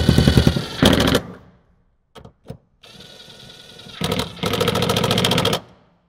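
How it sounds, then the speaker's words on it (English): A power driver tightens the front seat bolts in a 2007–2018 Jeep JK Wrangler. It gives several close, loud buzzing ratchet bursts separated by short pauses and a few faint clicks, with no talking. "Bolt in your 2 seat bolts for the front."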